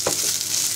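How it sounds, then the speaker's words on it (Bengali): Six green chillies and a cup of dried loitta fish fry in hot oil, giving a close, steady sizzle with a brief stirring scrape near the start. "এবার কাঁচামরিচ এবং লইট্টা শুটকি ব্রাউন কালার করে ভেজে নিব।"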